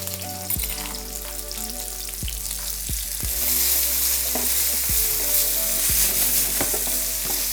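Curry paste fries in oil with softened golden onions for pad see ew, a continuous bright sizzle with periodic scraping stirs of a utensil against the pan, steady and close.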